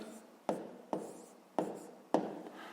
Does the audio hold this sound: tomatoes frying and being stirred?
no